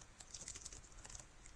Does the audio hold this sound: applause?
no